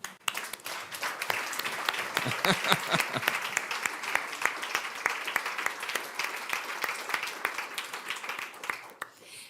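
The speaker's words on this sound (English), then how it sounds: "a big round of applause and a big thank you to Dr. Peter Wostner and all our amazing panelists" An audience at a European tourism forum on values and competitiveness gives a sustained round of applause for a panel, with dense, steady clapping throughout that fades out toward the end.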